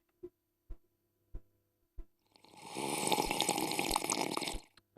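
Several toilets flushing at once send water rushing through pipes: a few soft isolated knocks first, then a loud, sustained gushing roar that runs for a couple of seconds and stops abruptly.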